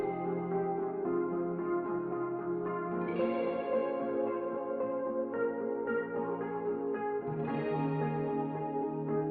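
Song with guitar drenched in heavy reverb and echo, a dense, sustained wash of sound that stays steady and loud throughout, no talking over it.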